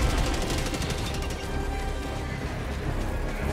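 In Helldivers 2, a Breaker Incendiary shotgun fires a rapid, loud burst of repeated blasts, then gives way to a dense, rumbling battle din that trails off.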